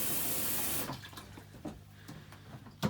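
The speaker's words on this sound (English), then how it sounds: "Just flush it like you normally would." RV toilet flushing antifreeze out of the water system, a loud rushing flush that cuts off after a second, followed by faint gurgles and drips.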